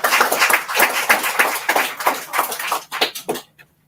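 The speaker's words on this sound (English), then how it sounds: "So let's give him a round of" An audience at a wellness center celebration claps in a loud burst of applause that thins into a few scattered claps and stops abruptly near the end.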